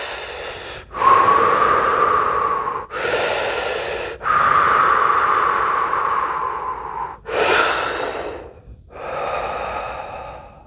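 Deep breathing exercise in the Wim Hof or Buteyko style: five long, loud breaths close to the mic, each a drawn-out airy rush separated by brief pauses, with no talking.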